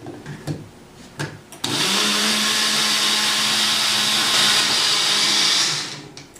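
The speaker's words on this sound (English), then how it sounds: "use our blending blade to make a nice creamy honey mustard garlic salad dressing" A Tribest personal blender runs with its blending blade, whirring a creamy honey mustard garlic salad dressing in a mason jar: a loud, steady motor whine for about four seconds after a few handling clicks, then stopping.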